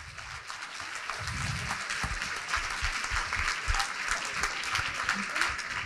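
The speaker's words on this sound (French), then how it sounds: "On peut l'applaudir pour l'interprétation," An audience at a post-growth talk in Bordeaux gives sustained applause for the interpreter, a dense, even clatter of many hands clapping throughout at moderate volume, with faint voices mixed in.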